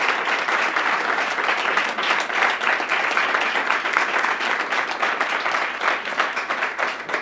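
A round of applause at a health care innovation funding announcement in Ontario, a large audience clapping steadily and loudly for several seconds with no voices on top.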